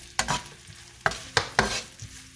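Onions fry in olive oil in a pan, with a soft sizzle underneath several sharp scraping clicks from a utensil stirring against the pan, heard close by.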